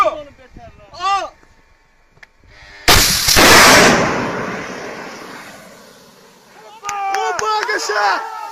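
A burst of loud gunfire rips out over several seconds while shooting at an Armenian Mi-24 helicopter near the Karabakh border, with excited shouting voices before and after the shots.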